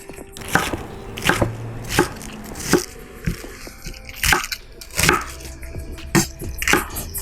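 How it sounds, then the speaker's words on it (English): A knife chops iceberg lettuce roughly on a cutting board for a two-person garden salad with chicken, giving a series of crisp, close, irregularly spaced thuds and crunches with no talk. "I'm gonna grab some of the iceberg lettuce. Just a rough chop."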